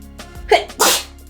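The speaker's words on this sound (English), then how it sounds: "I have to sneeze, oh my god." A short sharp inhale followed by one loud, close sneeze that bursts out and trails off.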